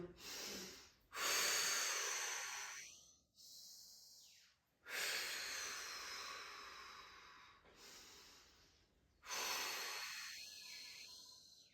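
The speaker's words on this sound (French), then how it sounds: "Et je continue cette grande respiration." Slow, deep breaths taken during a Foundation Training breathing exercise, long airy inhales and exhales in a quiet room, each breath clearly audible and close, with short pauses between them and no speech.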